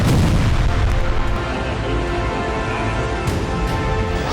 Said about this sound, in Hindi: कीव में रूस ने 20 ड्रोन से विस्फोट किए